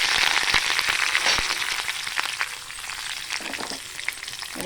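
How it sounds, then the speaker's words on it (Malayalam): Curry leaves fry in hot oil with popped mustard seeds, a loud, continuous sizzle with crackling spits and occasional stirring clicks, no voices. "കടുക് നന്നായിട്ട് പൊട്ടി അതിൻ്റെ അകത്തേക്ക് നമുക്ക് കറിവേപ്പില ഇട്ട് കൊടുക്കാം."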